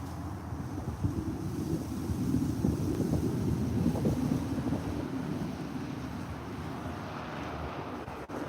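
Steady, gusting wind on a sunny day outdoors by the Deschutes River in Central Oregon, a continuous low rumble buffeting the microphone with no voices.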